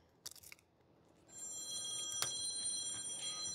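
A telephone rings steadily with a bright, sustained electronic tone during a citrus tree grafting session, following a few soft handling taps, and continues without pause to the end.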